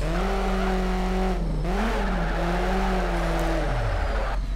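A race car skidding out with tires squealing in the racing video game Need for Speed Shift 2, its engine revving and wavering up and down through the slide, loud and close throughout.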